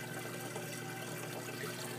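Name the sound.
water flowing from aquarium return over filter pad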